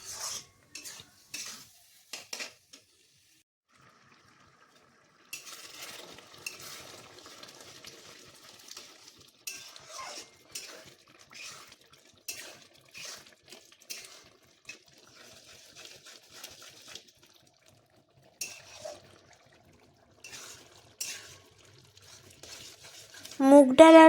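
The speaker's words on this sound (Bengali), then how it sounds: "এবার চাল আর মুগের ডালটা ভেজানো ছিল, এবার দিয়ে দিচ্ছি। দিয়ে নাড়িয়ে নিতে হবে।" Soaked rice and mung dal are stirred in a pot for mutton khichuri, with repeated scraping strokes and soft sizzling in short bursts separated by brief pauses, plus a little faint talking.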